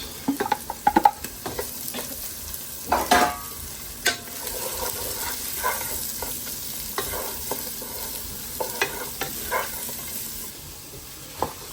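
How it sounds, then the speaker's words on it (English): Onions added to a pan of garlic softening in a little olive oil, frying with a quiet, steady sizzle while a utensil stirs and scrapes in scattered soft clicks and knocks through the clip. "Then add your onions."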